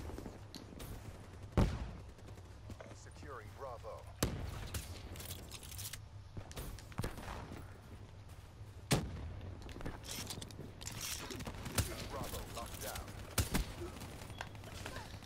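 Sniper rifle gunfire from a first-person shooter video game with a thermal scope: several sharp, loud shots spaced a few seconds apart over a steady background hum, with faint talk in between.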